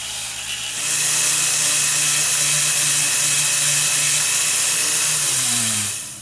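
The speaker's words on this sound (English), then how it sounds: "I'm not applying a lot of pressure, I'm just letting the brush do the work. And you can see that it's really polishing up now" A rotary tool spins a polishing brush against a gold ring, a loud steady high whir that starts abruptly, holds level, then winds down with a falling pitch at the end, no voices.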